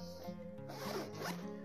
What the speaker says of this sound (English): I love that when bags provide this two-way zipper